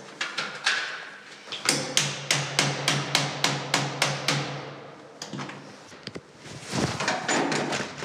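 Repeated metallic blows and scraping as a door lock is forced open with a screwdriver and pliers by a locksmith, a rhythmic run of about a dozen sharp knocks followed by rattling and grinding close by.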